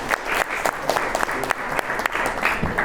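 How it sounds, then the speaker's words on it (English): Audience applause for an acoustic guitarist at a forum event, steady moderate clapping from a seated crowd with a few sharper claps standing out. "Let's give him a round of applause."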